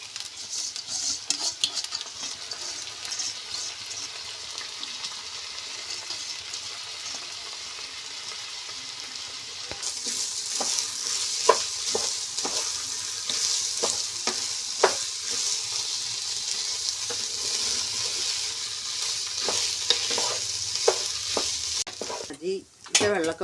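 Rice being sautéed and stirred with onions and carrots in a pan for neychoru ghee rice, a steady frying sizzle with a scraping spoon, growing louder and busier partway through, with no talk.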